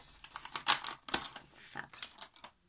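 Cardboard door of a countdown-to-New-Year calendar torn open by hand, a run of close, crisp ripping and crinkling bursts with two sharper tears, fading into small rustles.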